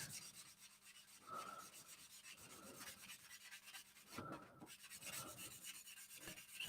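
Very fine-grit sandpaper rubs over a 1/48 Tamiya Nakajima Ki-84 plastic model kit in quiet, short scratchy strokes. The passes come in soft bursts separated by near silence.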